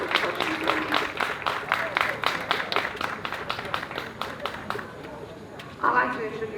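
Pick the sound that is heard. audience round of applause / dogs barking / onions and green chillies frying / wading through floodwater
audience round of applause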